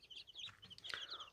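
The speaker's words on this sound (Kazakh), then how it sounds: "Осы мынау брама тауық балапандармен жүр, өздері серуендеп." A Brahma hen walking with her chicks gives a few soft, quick clucks, faint and close, in a very short burst.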